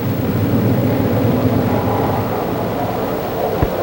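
Banshee jet fighter with twin Westinghouse engines taking off from a carrier deck and climbing, heard as a loud, continuous roaring rumble without talk, somewhat like an old film soundtrack.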